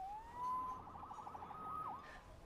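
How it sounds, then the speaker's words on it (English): A wailing electronic siren in the video game Marvel's Spider-Man Remastered rises and warbles, fairly faint and distant, sweeping up and down in pitch for a couple of seconds. "Saved by the siren."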